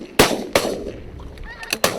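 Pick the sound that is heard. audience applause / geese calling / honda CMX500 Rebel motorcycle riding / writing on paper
geese calling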